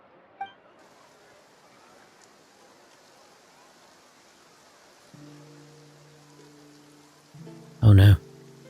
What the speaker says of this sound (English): Oh no. The rain has arrived.